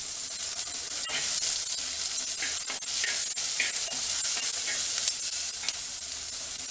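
Onion, garlic and curry leaves sauté in hot oil for a drumstick mango sambar, giving a steady, close crackling sizzle with soft spoon-stirring scrapes throughout and no talking.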